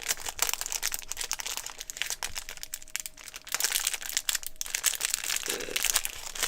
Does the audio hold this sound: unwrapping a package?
yes